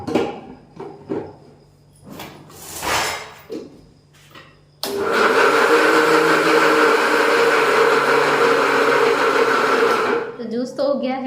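An electric juicer or blender whirs loudly and steadily for several seconds as it turns chopped vegetables into juice, starting abruptly after someone speaks and cutting off near the end.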